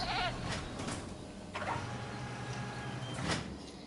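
Several goat bleats from the video game Jurassic World Evolution (Secrets of Dr Wu DLC) sound over a steady background hum, a few short cries spaced across a few seconds, slightly synthetic in tone.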